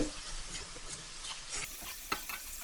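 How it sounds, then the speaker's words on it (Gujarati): Marinated chicken fries in hot oil in a pan with a steady close sizzle. It is soft and even, with occasional stirring scrapes and one small clink near the end. No voices are heard. "જોઈ શકો છો કે આપણું ચિકન સરસ શેકાઈ રહ્યું છે."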